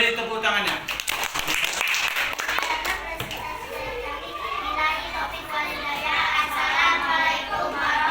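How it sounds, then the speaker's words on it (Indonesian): A class of children applauding a group in school, a dense burst of clapping mixed with excited kid voices and chatter, near and steady throughout. "Jadi untuk kelompok 3 beri tepuk tangannya"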